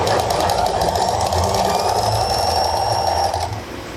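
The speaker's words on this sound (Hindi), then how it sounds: "आप यहाँ से इसको थोड़ा सा लूज़ करेंगे और उसके बाद इसकी ऐसे डबल सिलाई लगाएंगे।" A sewing machine runs a continuous double line of stitching on a summer frock, a loud steady whirring drone close by that holds for about three and a half seconds, then eases off as the needle slows.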